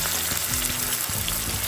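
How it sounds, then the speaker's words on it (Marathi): Finely chopped green garlic dropped into hot oil with cumin for a tempering, a loud, dense frying sizzle with crackling pops throughout the short burst. "जे आपण हे लसणाचे पात बारीक चिरलेले आहे ते टाकायचे फोडणी."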